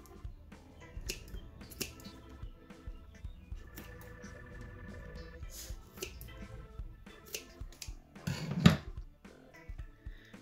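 Scissors cut open an XXL anti-stress ball with a series of soft, close snips and squishy crunches, quiet overall, with one sharper snap near the end.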